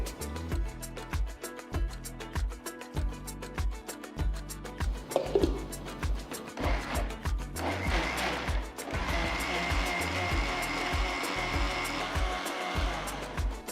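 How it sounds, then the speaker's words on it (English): A kitchen mixer grinder blending cooled cooked vegetables into a fine puree, a loud steady motor whine with pulsing churning that rises into a smoother, higher roar toward the end. "I'm going to transfer it to a mixer jar and grind it to a nice fine puree"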